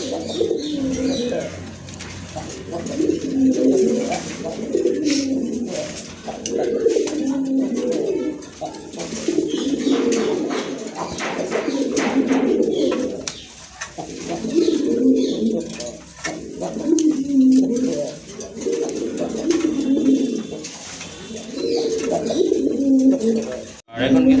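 A pair of brown-necked domestic pigeons, male and female, coo repeatedly in close, rhythmic bursts that rise and fall throughout, loud and near with no clear voices over them.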